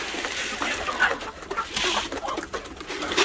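Chickens pecking at paddy grain scattered at midday, with faint clucks and soft bird calls over a steady outdoor hiss and scratching, continuous and moderately close, no talk.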